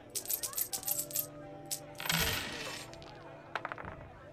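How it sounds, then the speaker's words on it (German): Dice rattling and clattering onto a table in a thieves' dice game in Assassin's Creed Brotherhood, a quick burst of small bright knocks, a brief louder tumble, then a final click, close and faint. "Ah, erneut würfeln."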